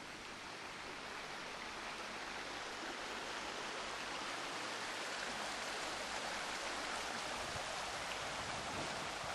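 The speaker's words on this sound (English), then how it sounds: "I love the sound of rushing water" Rushing river water in Hell's Glen, Scotland, near a bridge, flowing as a steady, dense broadband roar that stays constant and close throughout with no voices.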